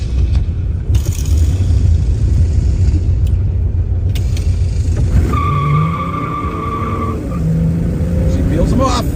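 Pontiac GTO muscle car driving and accelerating, a loud continuous engine roar with rising tones as it pulls through the gears, plus brief tire noise.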